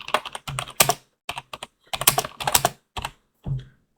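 Close, crisp typing on a computer keyboard while entering a prompt, in quick bursts of keystrokes separated by short pauses.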